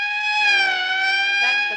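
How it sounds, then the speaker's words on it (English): Wailing siren of a police or emergency vehicle in an old black-and-white sci-fi film, a steady loud tone held alone for under two seconds. "That's the fifth siren in the last hour."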